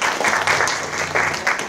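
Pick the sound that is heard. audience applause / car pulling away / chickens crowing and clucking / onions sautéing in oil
audience applause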